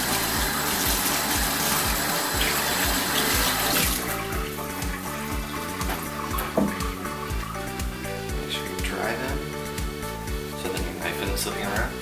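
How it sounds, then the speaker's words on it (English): Tap water runs steadily into a sink during handwashing in a kitchen, a continuous close gush that stays level throughout with no clear talk over it. "wash your hands"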